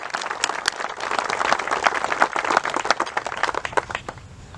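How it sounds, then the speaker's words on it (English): A modest crowd at an aircraft dedication ceremony applauds the ladies, with distinct individual claps standing out over a steady patter of hands that tapers off at the end. "so let's give them a round of applause"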